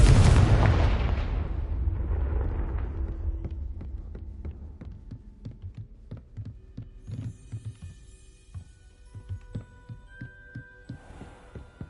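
A Confringo blasting spell in Hogwarts Legacy bursts in a loud explosion that fades into a long rumbling decay, followed by scattered faint clicks and thuds.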